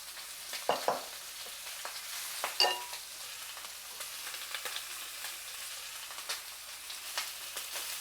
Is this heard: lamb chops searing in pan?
yes